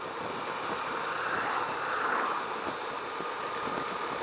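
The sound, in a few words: Husqvarna Svartpilen 401 motorcycle engine while riding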